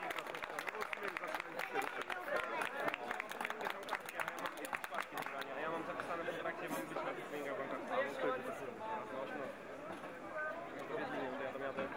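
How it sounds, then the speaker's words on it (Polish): Audience clapping for a band from Kamienna Góra, with crisp rhythmic claps for about five seconds that fade into crowd chatter and a continuous murmur of voices. "Wielkie brawa dla nich"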